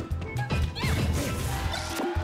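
A sharp crash from a down smash attack landing in a Super Smash Bros. match between Peach and Snake, followed by smaller whacks and in-game effects, fairly loud with little talk over it.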